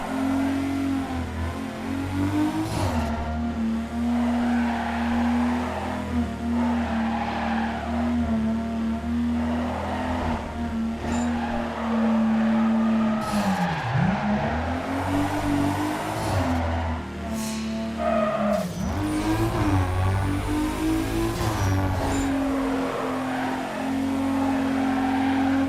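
A car drifting in a Need for Speed video game, with a loud sustained engine drone that rises and dips as it revs and long tire squeals and skids sliding through corners.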